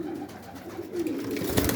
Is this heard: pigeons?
yes